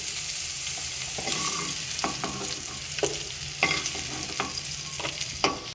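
Cauliflower pieces being turned and fried in oil in a pan, a continuous sizzle broken by several distinct scrapes and clacks of the spatula, close and with no talking.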